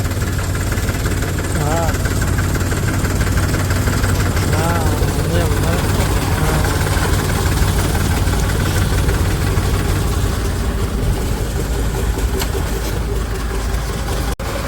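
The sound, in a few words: tractor engine running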